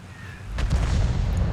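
Artillery firing in World of Tanks, a single deep boom midway through that swells into a sustained low rumble, fairly loud and heard alone.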